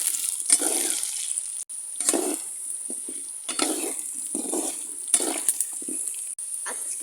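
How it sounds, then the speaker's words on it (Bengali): Meat fries in oil in a pot over a clay stove, with bursts of crackling sizzle and scraping stirs repeating through the stretch, close up and without talk. "এখানে আমার আপু মাংস ভাজি করে নিচ্ছে"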